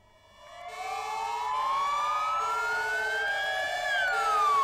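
A wailing police car siren rises and sweeps in pitch, growing louder and sustained throughout, with a steady tone underneath and no talking.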